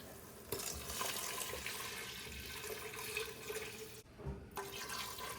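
Tap water runs steadily into a pot to make shrimp stock for gumbo, a continuous close splashing rush with a short break near the end before the flow resumes.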